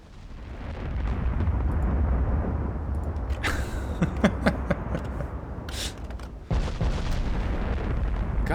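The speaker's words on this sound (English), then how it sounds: "We're actually trying to hit them with an 18-inch gun." An 18-inch naval gun fires in Ultimate Admiral: Dreadnoughts, a heavy sustained rumble of battle noise with several sharp cracks and booms clustered in the middle, then a sudden cut to more low roar.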